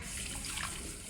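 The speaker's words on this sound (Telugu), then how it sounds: "hot water" Hot water pours into maida flour and yeast for bun dough, a soft, continuous splashing hiss at low volume for about a second.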